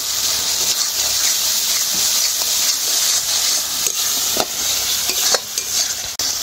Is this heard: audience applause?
no